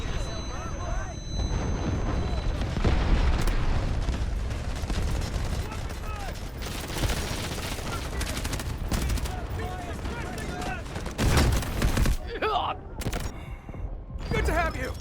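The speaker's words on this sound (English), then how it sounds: "Requesting artillery barrage!" Artillery barrage and gunfire in the video game Delta Force, a continuous dense rumble of explosions and rapid shots with louder blasts near the end.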